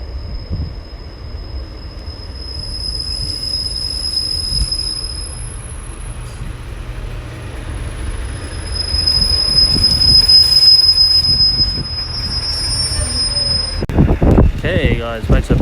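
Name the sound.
Class 143 train unit 143612 passing, wheels squealing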